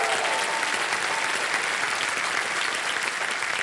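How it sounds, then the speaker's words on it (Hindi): A television game-show studio audience claps steadily and loudly throughout, a dense, even wash of applause with no pauses. "तालियां बज जाए इनके लिए।"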